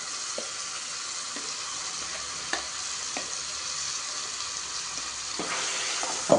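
Ground gongura leaves are stirred into hot oil in a pan, giving a continuous soft sizzle and frying hiss. A few scraping stirs of the spoon punctuate it at irregular intervals, all close up with no voices.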